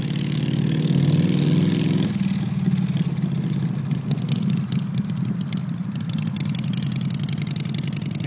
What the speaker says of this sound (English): You can hear that popping in the trees.